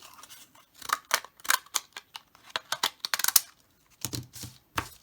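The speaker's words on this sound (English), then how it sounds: "And another thing you could use, these scissors too." Scissors snip repeatedly through paint chip cards at close range, a rapid run of crisp, sharp cuts at an uneven pace with brief pauses between them.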